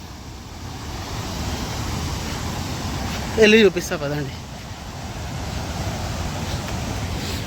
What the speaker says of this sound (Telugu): ఒక పెద్ద వాటర్ ఫాల్ లాంటిది వస్తుంది.